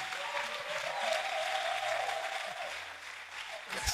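Audience at a Christian gathering in Congo applauds to welcome an apostle to the stage, a steady wash of clapping lasting throughout with some faint voices mixed in.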